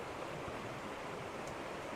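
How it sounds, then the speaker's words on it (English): A small waterfall on the River Barle in Exmoor gives off a constant, faint, even rush of falling water with no other sounds. "Quite a nice little waterfall here."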